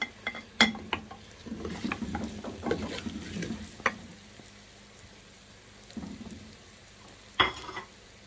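Potatoes fry in a pot with turmeric and garam masala, giving a soft low sizzle broken by stirring scrapes and a few sharp utensil clinks, fairly quiet and without talk.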